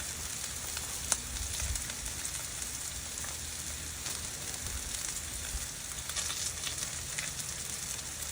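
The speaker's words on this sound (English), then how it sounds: "Listen to the sizzle." Bacon strips sizzle and crackle steadily on a hot Blackstone flat-top griddle, a dense, even frying hiss that fills the whole stretch without talk.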